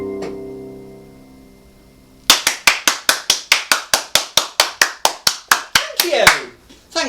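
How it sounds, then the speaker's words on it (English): An audience at a live music show claps after a song, breaking out of a faint lingering tone into about seventeen sharp, evenly spaced claps in unison, loud and close, the steady rhythm loosening at the end. "I like your enthusiastic clapping"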